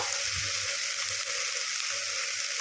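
Ground spices fry in a pan, giving a steady close sizzle while being stirred, with a few soft low scraping thumps underneath and no speech.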